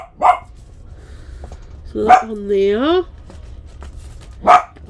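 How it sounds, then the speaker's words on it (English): A dog barks indoors in three short loud bursts spaced across several seconds, with a drawn-out whining howl after the second, while a person speaks briefly between them. "I think he's barking at the TV."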